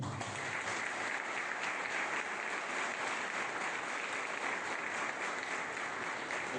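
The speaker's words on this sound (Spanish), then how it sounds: "para que pido un fuerte aplauso." An audience applauds steadily at a book presentation on Mexican criminal policy, a uniform, moderately loud bed of clapping that continues without a break.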